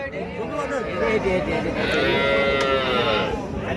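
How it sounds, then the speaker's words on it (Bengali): A large white Holstein Friesian dairy cow at a busy cattle market gives drawn-out, close moos over a steady murmur of crowd voices and people talking throughout. "সাদা রঙের একটা গরু দেখতেছি এটা বড় সাইজের হ্যাঁ বড় সাইজের হলস্টেন ফিজিয়ান"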